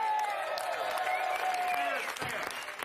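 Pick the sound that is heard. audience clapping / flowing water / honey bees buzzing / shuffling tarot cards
audience clapping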